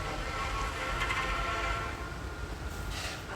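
A train in the horror game Granny 3 rumbles along steadily with a low rolling drone and a sustained horn-like tone, loud and continuous, easing slightly toward the end.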